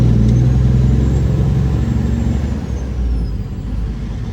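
A semi truck shifts gears, dropping from fifth to fourth while heading north on I-95. A loud, close, low engine drone fills the cab, with a faint high whine gliding slowly downward.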